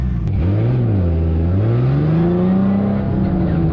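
An overheating car engine roars continuously near its 5,000 RPM limit, its pitch wavering up and down as it's held there, loud and close.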